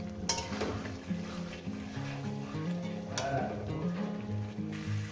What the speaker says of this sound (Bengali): এটা সুন্দর করে কষিয়ে নেবো যতক্ষণ না মশলা থেকে তেল না মানে পোস্ত থেকে তেলটা আলাদা হয়ে যাচ্ছে